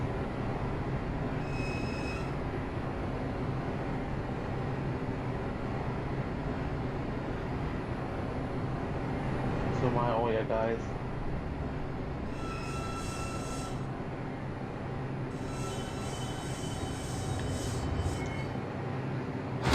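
An IRT subway train in a Roblox game rolls steadily along the line, a continuous rumble with brief wheel squeals and a few high-pitched tones, a short voice heard once midway.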